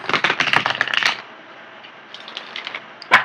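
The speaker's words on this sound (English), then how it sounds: "let me get the cards shuffled here" Tarot cards are shuffled in a quick rapid riffle of crisp flutters, followed by a pause, softer taps, and one sharp snap at the end.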